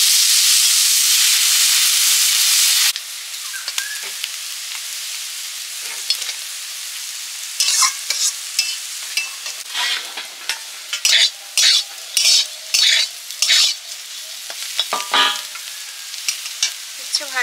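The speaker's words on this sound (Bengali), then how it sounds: "উচ্ছে ডাল করার জন্য উচ্ছেগুলো ভেজে নিচ্ছি প্রথমে" Thinly sliced bitter gourd fries in oil with a loud, steady sizzle at first, then settles into quieter frying broken by repeated scraping stirs, all close up and without talk.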